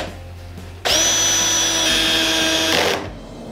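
A power drill drives a screw into an Ikea Kallax shelf panel clamped in place, running loud and steady for about two seconds with a rising whine, then stopping abruptly.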